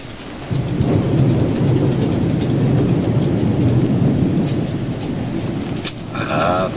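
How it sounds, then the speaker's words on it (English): A recorded thunderstorm played as background sound, heard as a steady, loud low rumble with broad noise throughout and a brief crack near the end, without any speech. "I like to use these particular thunderstorm recordings as background sound in some of my videos."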